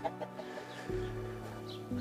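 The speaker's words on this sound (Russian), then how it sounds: "вот это наши цыплята" Young chicks kept free-range in a garden cluck and cheep in short, close calls, a few soft peeps followed by sustained clucking notes.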